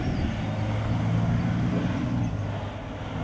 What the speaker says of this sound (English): That's one of the test trucks.